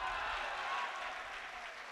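An audience at a poetry recitation breaks into applause, a dense, even wash of clapping that stays steady and moderately loud for its whole short span.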